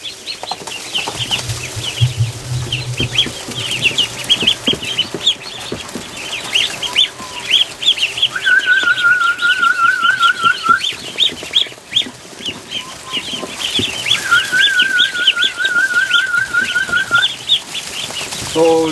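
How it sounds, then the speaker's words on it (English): Ducklings and goslings peep constantly in a busy chorus, with rapid trilling runs breaking out twice amid rustling and scuffling. "Oh, little ducks and little geese."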